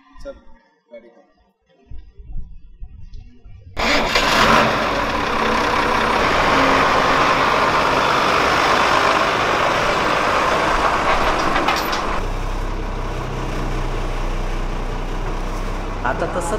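After a few quiet, scattered sounds and a brief voice, a vehicle engine starts up and drives off, a loud steady rumble that holds, then shifts to a deeper drone, with speech heard at times.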